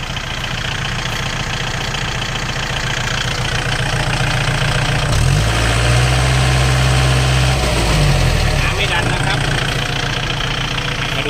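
A Kubota L4708 tractor engine idling with a steady low rumble and chugging, its pitch rising briefly midway; someone talks over it.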